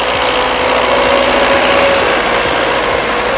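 Tractor engines drone steadily in a field during corn sowing with a Monika 350 MV planter, a continuous loud mechanical hum with a faint whine, no talking.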